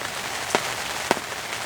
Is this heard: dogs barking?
no